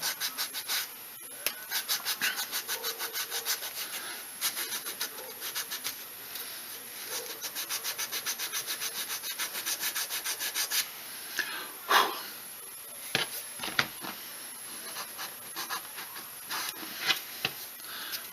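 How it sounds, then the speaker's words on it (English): Leather slide holster edges sanded by rolling the holster against a round sander, giving a steady close rasping rub with a rapid pulsing texture throughout, broken by a few sharper scrapes toward the end. "you can just kind of roll the holster a little, and that'll sand that"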